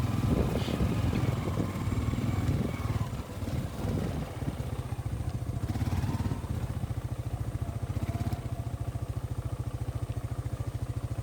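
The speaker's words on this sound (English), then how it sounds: "riding on the four-wheeler" An ATV (four-wheeler) engine chugs with a rapid, regular putter while riding, loud and close, with some wind and rough bumps early on before it settles, in gusty post-hurricane weather.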